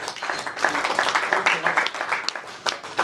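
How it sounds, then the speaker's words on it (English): An audience gives a sustained round of applause for the participants at the Wyder Cup 2013 event, with dense steady clapping throughout that swells and dips slightly. "I think you should give yourself a round of applause"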